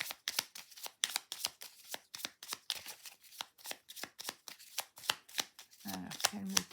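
Tarot cards being shuffled by hand, a rapid series of crisp riffling bursts in a steady rhythm, close up, with a voice starting to talk at the end.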